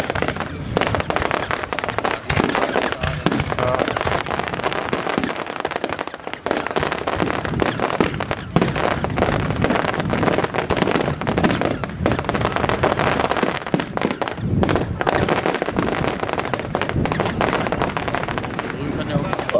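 Rapid, continuous barrage of 600 fireworks shots crackling and popping densely for the whole stretch, loud and close, with voices mixed in, at a pyrotechnics show.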